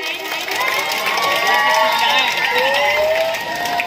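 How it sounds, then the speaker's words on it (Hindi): Children at a nursery and tuition class summer camp valedictory function clap and shout together in a loud, steady crowd din lasting several seconds, with voices mixed throughout. "बहुत खूब, बच्चे जोरदार तालियां बजाएं।"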